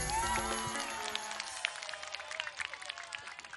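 Audience applause and cheering at a live show, a dense burst of clapping that starts loud and thins out over a few seconds, with crowd noise mixed in.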